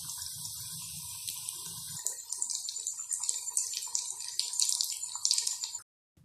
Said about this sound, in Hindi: और अब आप इसे गोल्डन ब्राउन होने तक फ्राई करते रहें।